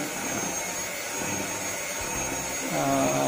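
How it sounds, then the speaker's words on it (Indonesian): An electric hand mixer whips martabak manis red velvet batter with a continuous whirring drone that holds steady throughout, its motor pitch shifting slightly near the end. "pengocokan dengan mixer ini"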